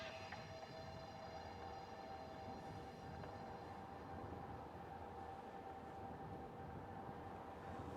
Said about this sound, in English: We're just waiting for the freight train to go through.